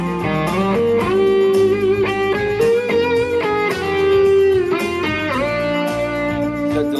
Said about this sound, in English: Now I'll put a bit of delay in here.